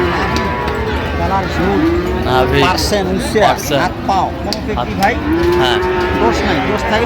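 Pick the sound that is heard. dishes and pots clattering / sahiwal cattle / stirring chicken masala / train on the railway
sahiwal cattle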